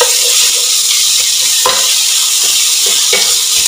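Garlic paste and two green chilies frying in a pan for lamb paya curry, a loud, steady sizzle with occasional stirring scrapes and clinks, close and with no talking.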